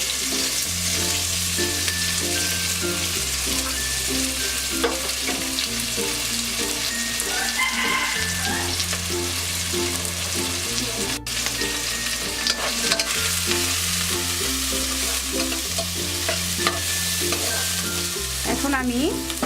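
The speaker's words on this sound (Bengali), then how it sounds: "মাছ ভাজার পরে যে এক্সট্রা তেলটা ছিল সেই তেলের মধ্যে আমি পেঁয়াজটা ভেজে" Onions frying in leftover oil from frying rohu fish: a continuous, even sizzle with stirring, heard steadily beneath prominent background music throughout.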